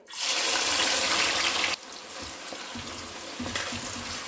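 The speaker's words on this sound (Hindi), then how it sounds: "तेल अब हमारा गर्म हो गया है, अब इसमें प्याज को हम डाल देंगे।" Chopped onions go into hot oil in a pan for a restaurant-style veg Diwani Handi. They hit with a loud, steady sizzle that settles into a softer, continuous frying hiss with some stirring.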